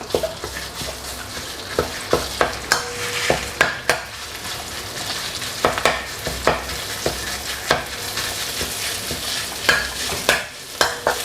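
Crispy pork with red chili curry paste stir-fried in oil in a pan over medium heat, sizzling steadily close up while a spatula scrapes and clacks against the metal in frequent sharp strokes.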